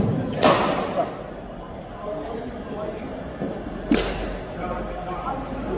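A cricket bat strikes the ball twice during a one-on-one batting practice session at a cricket academy: two sharp, clean cracks about three and a half seconds apart over a low background murmur.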